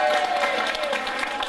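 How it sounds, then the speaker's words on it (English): Applause from a crowd at a 2014 acoustic festival in Bedale, a dense, continuous patter of many hands clapping for the organisers, steady and fairly loud throughout. "No, bigger round of applause."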